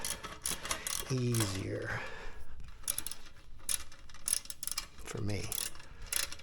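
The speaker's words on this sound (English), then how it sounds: "They give you Allen wrenches for this, but I prefer using my ratchets" A ratchet clicks as bolts are tightened during home gym assembly, quick repeated clicking bursts close by while someone talks briefly.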